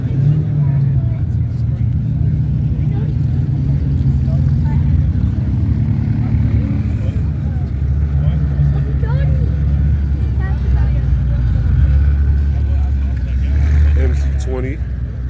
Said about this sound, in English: Daily driven ATL exotics pulling up.